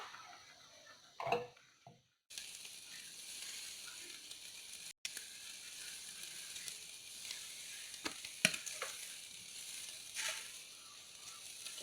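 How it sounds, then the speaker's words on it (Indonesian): Spice paste stir-fried in cooking oil for Indian-style grilled chicken, a steady broadband sizzle with a few brief scraping clicks of a utensil, continuous and close with no talking. "Baru setelah itu saya akan masukkan minyak goreng dan digongso."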